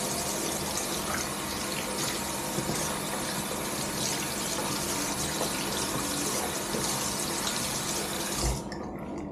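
A straight razor being rinsed under a running tap, with a steady, close gush of water splashing into a sink for about nine seconds before it cuts off near the end.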